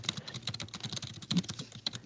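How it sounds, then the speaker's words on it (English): Rapid, uneven keyboard typing, close and fairly loud, with clustered key clicks and a few harder strikes throughout. "the vigorous typing"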